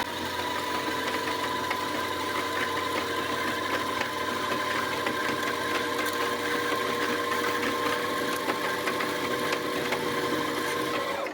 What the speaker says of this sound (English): you can then press your pedal and the bobbin starts to fill up like that